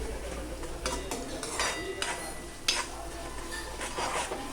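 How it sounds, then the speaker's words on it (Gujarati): Onions and chili paste sauté in a pan for a paneer curry, a steady close sizzle broken by scraping stirs and occasional light clinks of a spoon against the pan. "મેં એમાં જે મરચાંની ને એની પેસ્ટ બનાવી હતી એ એડ કરી દીધી છે એ બધાને બરાબર એકદમ સચડાવા દેવાનું"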